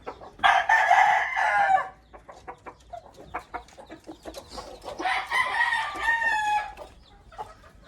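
Hens and a rooster at a gamefowl yard cluck and crow close by, with two loud bursts of squawking and crowing separated by scattered clucks and rustling.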